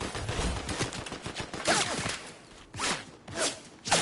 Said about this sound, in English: I feel like they're shooting like 3 different sides